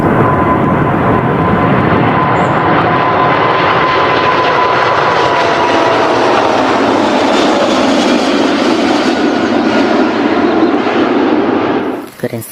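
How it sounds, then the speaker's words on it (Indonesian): A toy airplane's engine sound effect: a loud, steady propeller-like drone that holds for about twelve seconds and then cuts off abruptly. "Widih, pesawat terbang."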